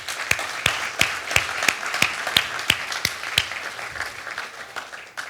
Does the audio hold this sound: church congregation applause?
yes